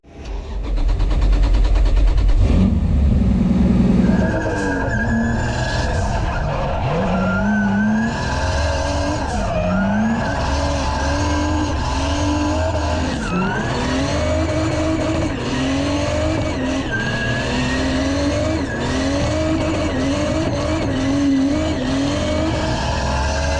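Drift cars at the Swedish Drift Championship, engines revving and rising in pitch while tires squeal through skids, a continuous loud roar with shifting engine tones throughout.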